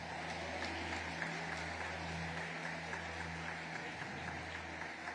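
Distant congregation applause during a Catholic Mass homily, a steady patter of many hands clapping, faint and continuous over a low hum.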